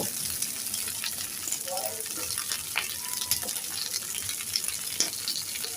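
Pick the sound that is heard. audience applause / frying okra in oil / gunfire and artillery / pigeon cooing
frying okra in oil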